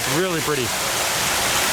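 Steady broadband rush of a waterfall at the entrance of the Maui Ocean Center aquarium in Hawaii, continuous and fairly loud, with a person briefly talking over it.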